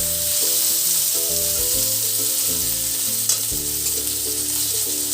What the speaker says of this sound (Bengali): অল্প অল্পই ভেজে নিচ্ছি